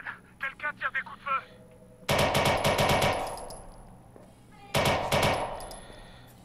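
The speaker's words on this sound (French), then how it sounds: "quelqu'un tire des coups de feu" Rapid machine-gun bursts from the video game Watch Dogs 2, a short run of shots followed by two long, loud sustained volleys with a pause between them.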